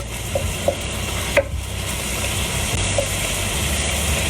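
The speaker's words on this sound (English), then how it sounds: "We're going to cook this hamburger until you can see the pink is gradually starting to go away." Ground hamburger meat cooking in a pan, a continuous moderate sizzle with a few light clicks and one utensil knock, no talking.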